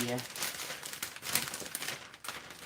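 Cellophane gift basket bag being handled, giving soft, continuous crinkling that rises and falls at a close distance, fairly quiet, with a short voice-like tone at the start.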